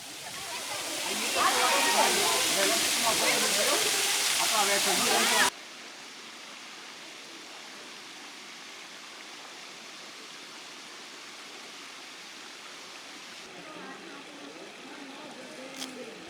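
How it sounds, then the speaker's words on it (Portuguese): Cachoeira das Andorinhas waterfall, running low on water, gives a loud steady rush for about five seconds, then drops to a much fainter, even background hiss. "A Cachoeira das Andorinhas é muito bonita e deu um ótimo banho, apesar de estar com pouca água"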